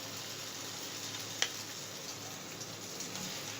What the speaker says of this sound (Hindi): ऑयल हमारा गर्म हो चुका है। अब इसके अंदर मैं ये मिक्सचर जार डालूंगी ऑमलेट का।